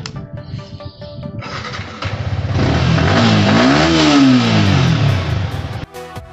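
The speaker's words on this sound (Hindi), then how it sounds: "बाइक करते हैं स्टार्ट।" Yamaha R15 V3 motorcycle with a loud aftermarket exhaust starting up close by, then revved hard, the pitch climbing and falling in one long blip before dropping back toward idle.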